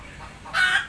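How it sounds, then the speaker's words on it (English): A hen clucks in a short, loud burst that starts halfway through, close by and alone over a faint background of outdoor ambience. "this is some hen"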